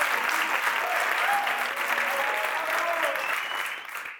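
Audience at a sports awards ceremony applauding as an athlete is welcomed, steady close clapping that holds for several seconds before tapering off.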